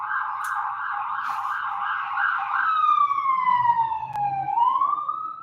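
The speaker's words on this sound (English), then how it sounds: "Another siren's going by" A city emergency vehicle siren passes by, loud and close, its wailing tone holding steady before sweeping down and rising again over low traffic rumble.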